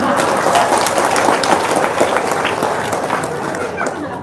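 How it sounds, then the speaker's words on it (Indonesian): Audience clapping at a religious talk or gathering, loud and close, dense hand claps that slowly thin and fade toward the end, with some crowd murmur mixed in. "Tepuk tangan dong."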